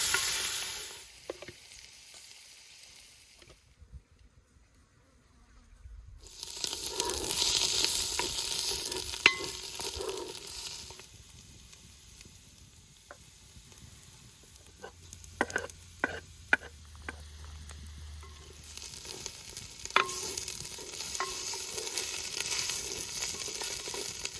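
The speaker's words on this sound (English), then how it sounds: "Browning the bacon. We're going to brown the bed of roots as well." Bacon and root vegetables browning in a cast-iron potjie pot over a wood fire for oxtail stew: a steady, fairly quiet sizzle with scattered scraping stirs and a brief lull early on.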